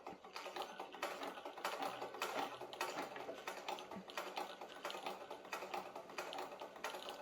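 A century-old sewing machine winds its bobbin with a quiet, fast, steady mechanical clatter and rhythmic ticking that repeats evenly throughout, close but faint.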